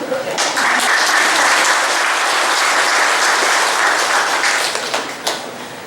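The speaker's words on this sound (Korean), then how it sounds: "어르신들은 박수 치시더라고" A church congregation claps during a Sunday worship sermon: dense, steady applause from many hands fills the hall at full strength, then thins and trails off near the end.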